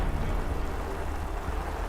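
Steady rain falls outdoors in a broad, continuous wash of noise, loud and even throughout with no voices.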